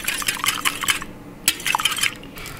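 Three cracked eggs are whisked in a bowl, quick rhythmic clinking and scraping strokes close by, with a brief pause midway.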